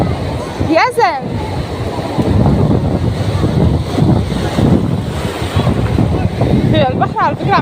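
Sea waves wash continuously onto a beach under heavy wind buffeting the microphone, while children and adults call out and talk close by.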